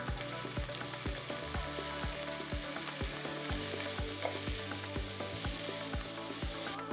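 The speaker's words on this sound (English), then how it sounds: "I'm going to add half cup of chopped carrots, half cup of chopped beans," Chopped onions, carrots, beans and peas frying in a pan for a paneer dish, a steady close sizzle broken by regular scraping strokes of a spatula, with no talking.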